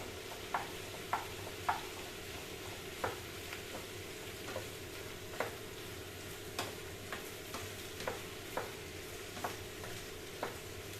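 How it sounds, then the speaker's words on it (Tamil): Steady sizzling of vegetables sautéing in a pan for eggplant kosthu, with scattered clicks and light spatula taps at irregular intervals, close and moderately quiet. "எல்லாமே போட்டு நல்லா வதக்கலாம்"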